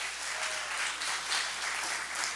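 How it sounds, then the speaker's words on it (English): A church congregation gives a round of applause during a Sunday service, a steady, fairly soft wash of clapping that holds evenly for a couple of seconds without talk over it. "Let me give a round of applause."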